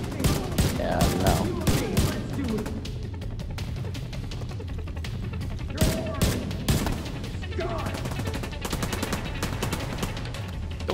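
Sustained gunfire in The Division 2, dense bursts of automatic shots rattling continuously with a few heavier booms, loud and close, with a voice talking over parts of it.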